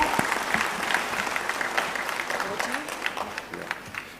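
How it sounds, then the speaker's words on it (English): An audience in a hall applauds to welcome a guest speaker, a dense, sustained wash of many clapping hands at steady volume, with a little speech mixed in. "Let's welcome him with an applause, everyone. Let's put our hands together."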